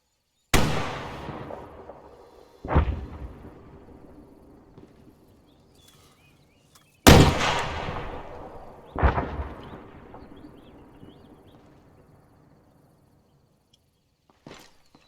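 Rockets are fired during military detachment training. Four sharp, booming blasts come in two pairs, each decaying into a rolling echo, with quiet gaps between them and a faint thump near the end.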